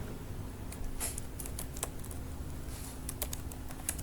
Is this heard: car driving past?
no